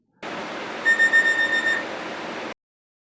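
The cockpit buzzer on Germanwings Flight 9525 sounds once for about a second, a steady electronic tone riding over hissing cabin noise, with a brief pulsing impulsive noise accompanying it.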